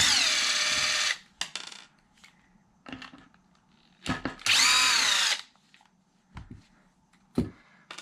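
Power drill backing screws out of an Arrma Felony RC car during a build, heard as several bursts of whining motor, one long and sustained, others short, close and loud with quiet gaps between.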